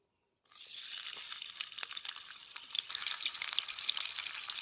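Onion for kochu stem (taro stem) curry hits hot oil in a pan and sizzles abruptly, then keeps up a close, steady crackling fry with faint stirring for several seconds.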